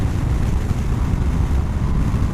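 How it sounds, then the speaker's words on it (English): BMW R 1250 RS motorcycle ridden along an open road, its engine a steady low droning rumble mixed with heavy wind roar, continuous and close throughout. "That is impressive how smooth and tractable that engine is at any revs."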